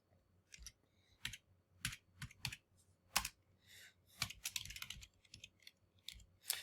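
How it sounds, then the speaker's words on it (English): Keys clatter on a computer keyboard in short irregular bursts of clicks, close and fairly quiet, with no voices. "I'm going to type in an address"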